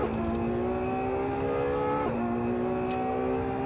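A car in Assetto Corsa accelerates on track, its engine drone holding a steady rising tone before a brief gear-like dip and climbing again, loud and continuous with no talk.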